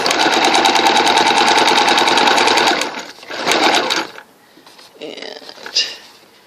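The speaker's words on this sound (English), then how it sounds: "I think I'm running out of bobbin" A sewing machine machine-basting fabric runs fast and loud for about three seconds, then a shorter burst, followed by quieter handling noises and someone speaking as the bobbin runs low.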